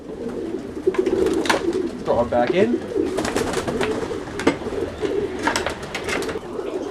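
Pigeons coo in low, repeated murmurs from a loft of Birmingham roller birds in New York City, with scattered wing flutters and chirps; a person speaks briefly over the steady bird sounds.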